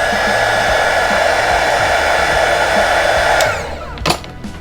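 A loud, steady blast from a heat gun blowing hot air on an LED light roars close by, then drops off near the end, leaving a softer whir with a brief rustle.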